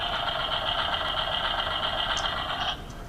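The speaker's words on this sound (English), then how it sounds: "You've got swooshing sound, engine starting up" An electronic engine start-up effect from a Transformers toy jet plays as a steady, buzzy whine for about three seconds, with a few chirps near the end before it drops away.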